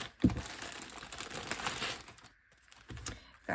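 Paper bags handled at close range, a sharp crinkle at the start followed by a steady run of soft rustling and crackling that fades, with another short crinkle near the end.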